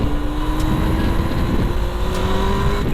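A car pulls away and drives on, its engine note rising steadily under continuous road and wind noise, loud and close from inside the vehicle.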